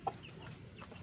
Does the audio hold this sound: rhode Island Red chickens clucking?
yes